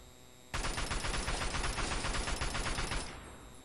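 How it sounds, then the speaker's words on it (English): A sustained burst of assault rifle fire in Fallout 3 erupts abruptly and holds loud, rapid and even for about two and a half seconds, then cuts off into a short fading tail, with no voices. "with the super mutant, I just kind of use my assault rifle"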